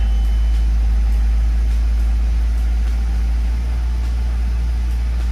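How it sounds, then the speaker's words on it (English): A car engine idles high and steady after a throttle body cleaning, a constant deep hum with a faint even hiss, close and loud with no voices over it. "It is idling kind of high though."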